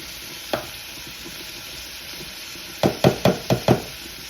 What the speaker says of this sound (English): You're going to beat this together until you get a paste like.